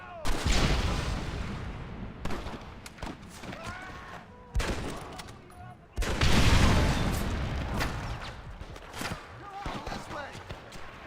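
Gatling gun fire in Red Dead Redemption at McFarlane Ranch: loud rapid bursts of gunfire with booming impacts come in several waves, the heaviest near the middle, with speech mixed in among the shots.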